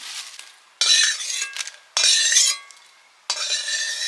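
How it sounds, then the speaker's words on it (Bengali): Dried red chillies fry in hot oil and are stirred in a pan, giving three loud bursts of crackling scrape and sizzle separated by quieter gaps. "লঙ্কা ভাজা হয়ে গেল শুকনো লঙ্কা ভাজা"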